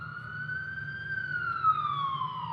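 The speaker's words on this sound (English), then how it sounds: "You hear sirens." A siren in the video game Omori wails steadily, a single clear tone gliding slightly up then down over a low hum, moderately loud and alone.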